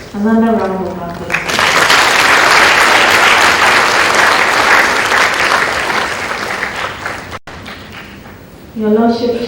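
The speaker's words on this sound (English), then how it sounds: "Another round of applause." An audience at a university special congregation breaks into sustained applause, loud and dense for several seconds before tapering off, with a voice speaking briefly before and after.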